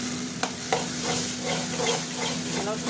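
Chana dal being stirred as it fries in a pan, a steady close sizzle with a couple of sharp spoon scrapes early on, no talking.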